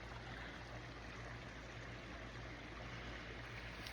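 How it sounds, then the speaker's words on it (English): A small creek flows under a little bridge in a yard, giving a steady, even rush of running water that fills the scene close by without pause or talk. "Can you hear the creek?"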